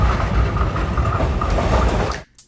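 A Melbourne Metro electric suburban train rolls along the rails toward Frankston with a loud, continuous rumble and rattling wheel noise close by, cutting off abruptly near the end.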